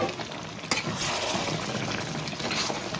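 Mutton curry stirred in a cooking pot, giving a steady, close sizzle and bubbling hiss with a brief scrape partway through, no voices.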